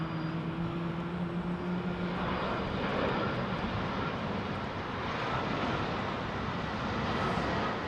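A KLM Boeing 777 airliner at London Heathrow Airport gives a steady, loud broadband roar of jet engines, with wind-like rush and a faint tonal whine early on, and no voices.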